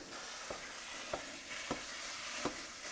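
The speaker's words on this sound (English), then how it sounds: "First thing we need to do is brown up our sausage meat." Sausage meat browning in a 2-quart saucepan gives a steady soft sizzle, broken by four sharp scraping knocks of a utensil stirring and breaking up the meat, spaced roughly every half second.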